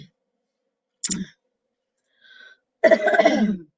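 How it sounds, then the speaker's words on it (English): A woman coughs and clears her throat with a frog in her throat: one sharp burst near one second, a faint short rasp, then a longer, louder throaty clearing at the end, close and alone. "I have a little bit of a frog in my throat because I keep coughing"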